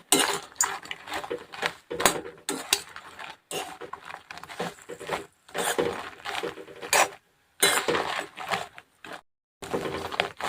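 Dried red chillies are stirred in oil in a hot kadai, a close series of irregular metallic scrapes and clinks from the spatula against the pan, broken by short pauses.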